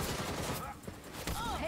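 Video game gunfire from a vigilante's gun in Gotham Knights, a rapid burst of shots rattling at the start and again near the end, mixed with game sounds and a player's voice speaking.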